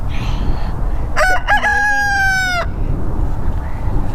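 Rooster crows once up close in a small backyard flock, a single loud, clear cock-a-doodle-doo lasting about a second and a half over a steady low background hum.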